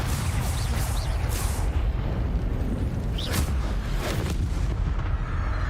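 Bombarda blasting spells go off in the Hogwarts Legacy video game as a few deep booming bursts over a continuous low rumble, with no voices.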